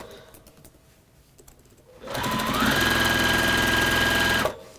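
Mini Beast sewing machine stitching fabric: quiet handling, then a loud steady mechanical whir runs for about two and a half seconds and stops abruptly.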